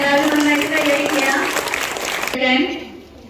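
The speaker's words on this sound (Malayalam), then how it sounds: "എല്ലാവരും നന്നായിട്ട് കയ്യടിക്കുക" An audience at a school food expo for World Food Day claps for a second-place prize winner, steady close applause with a voice speaking over it before it cuts off and fades.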